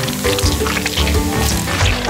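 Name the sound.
stirring tomato, corn and bean filling sizzling in a pan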